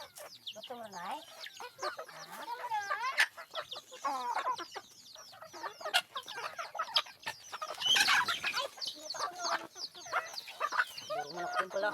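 Several chickens cluck and squawk close by in an uneven, busy chorus, with a brief sharper burst partway through.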